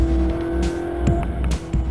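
Ferrari 458 Italia on the Buddh International Circuit, a loud sustained engine drone with brief surges and shifts as the car runs at speed.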